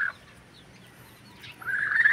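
A rooster crows loudly and close by, with a brief call at the start and a longer strained crow near the end.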